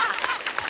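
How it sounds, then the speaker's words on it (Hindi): A studio audience at a comedy talk show gives a short burst of clapping for the team, dense and fairly loud, with no talking. "पहले टीम के लिए जोरदार ताली।"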